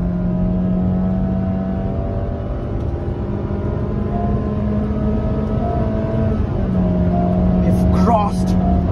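A 5th-generation Honda City ZX CVT petrol engine in sports mode, downshifted to third and held near 5000 rpm, droning loudly and steadily from inside the cabin, with the pitch climbing slightly near the end.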